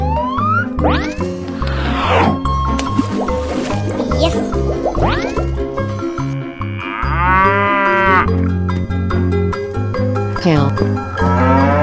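A cow moos loudly several times in long, drawn-out calls, mixed with other farm animal sounds and a steady background.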